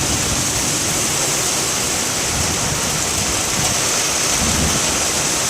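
Heavy rain with strong wind and thunder in Lubuklinggau, heard as a loud, steady, dense roar of downpour filling the whole stretch without a break.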